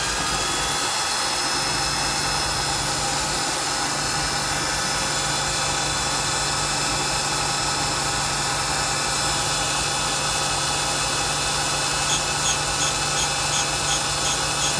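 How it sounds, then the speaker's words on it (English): A Kwik Way SVS valve grinder refaces a valve from a Jeep AMC 258 engine, a loud continuous motorized grinding whir with a steady hum, close up and without speech. "I get the valve chucked up in the valve grinder."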